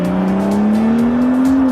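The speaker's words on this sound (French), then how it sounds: "On ne se lasse d'ailleurs pas de l'écouter travailler entre le sifflement de la turbocompression sous le capot" A 3-litre, 370 hp turbocharged sports car engine drones steadily up close, its low exhaust note rising slowly with a faint turbo whistle above, running continuously without pause.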